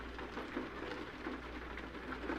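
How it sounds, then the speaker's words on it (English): Rain falls outside a quiet truck cab on an early dark morning in California, a soft, even patter heard faintly from inside under the low cab hum. "And it's raining."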